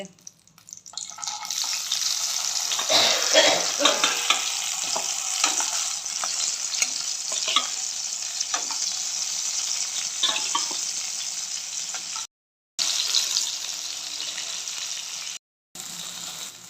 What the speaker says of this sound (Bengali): হলুদ লবণ দিয়ে মেখে নিয়েছি, এখন এটাকে ভাজি করব। বেগুনগুলো দিয়ে দেবো।